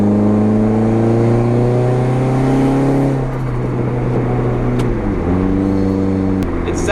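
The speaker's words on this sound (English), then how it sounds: "This exhaust is too good." Straight-piped SRT-4 PT Cruiser GT with a new downpipe, its exhaust droning loud and close as the revs climb, then dropping and rising again through a gear change.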